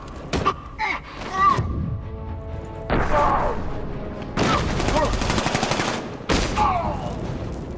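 Gunfire in the video game Batman Arkham Knight: bursts of rapid automatic shots and heavy thuds, loud and close, separated by short gaps, with game character voices speaking between them.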